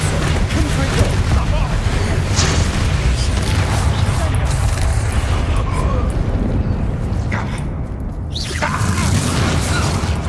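Confringo blast spells erupting in Hogwarts Legacy combat, a loud sustained barrage of booming, rumbling explosions and crashing debris filling the space, with spoken voices and game effects mixed underneath.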